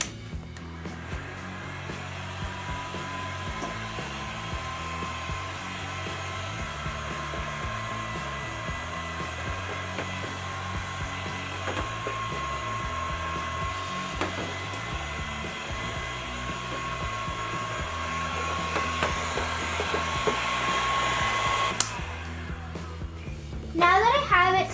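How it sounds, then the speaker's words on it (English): A heat gun warms silk screen ink on a T-shirt, its steady blowing roar running continuously up close for the whole stretch before cutting off near the end. "Now you have to use your heat gun and just warm it up until it's not tacky anymore."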